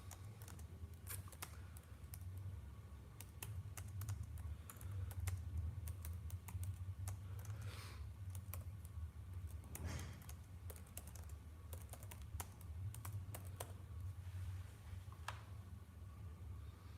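Steady typing on a computer keyboard, soft individual key clicks scattered over a constant low background hum, quiet and fairly close, with no voices.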